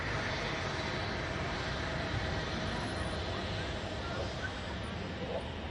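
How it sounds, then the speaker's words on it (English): An Airbus A330 jet takes off at Manchester Airport, a broad, steady engine roar filling the air at constant loudness, with faint background voices. "Awesome takeoff from the 330."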